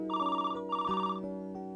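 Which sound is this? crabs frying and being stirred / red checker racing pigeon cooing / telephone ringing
telephone ringing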